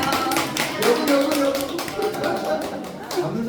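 A group of children and adults at an insect ecology exploration session claps together in a short burst of applause, while a voice talks over it.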